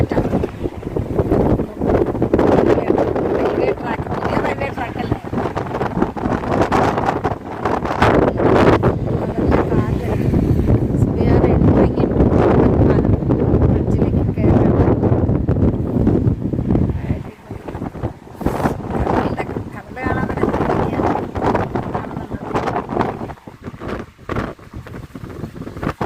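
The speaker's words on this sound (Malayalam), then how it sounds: "കാറ്റ്, ഭയങ്കര കാറ്റാണ്." Strong sea wind roaring across the Pamban bridge near Rameswaram, loud steady buffeting on the microphone that eases slightly toward the end, with voices talking over it.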